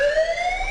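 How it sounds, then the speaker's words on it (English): A podcast's bias alarm sound effect plays as a loud electronic siren, a clear tone sweeping steadily upward for a short moment with no talk over it. "This is the bias alarm."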